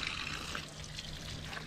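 Tap water runs in a steady trickling stream for handwashing, with a brief, even splashing at moderate distance.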